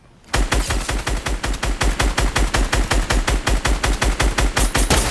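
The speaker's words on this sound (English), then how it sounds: "Great shotgun as well." Rapid, loud gunfire in the Fortnite video game, a relentless string of evenly spaced sharp shots that starts abruptly and continues without pause.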